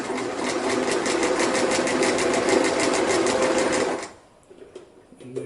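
A sewing machine stitching sleeping bag fabric runs in a fast, steady mechanical rattle close up for about four seconds, then stops, leaving faint handling clicks and rustles.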